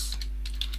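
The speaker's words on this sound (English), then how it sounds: "just open your browser and type in Notepad++" A few quick keyboard keystrokes tapped on a computer keyboard, close and fairly soft, in short irregular clicks over a steady low hum.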